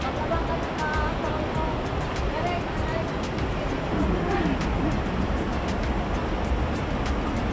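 Mother Falls at Ditumabo, San Luis, Aurora, pours with a steady, close, loud rushing roar that fills the whole stretch without a break.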